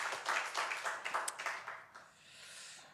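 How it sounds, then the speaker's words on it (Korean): A church congregation claps together during a Sunday service, quick rhythmic claps that fade out after about two seconds into soft room ambience. "우리 하나님께 영광의 박수 올려드리겠습니다"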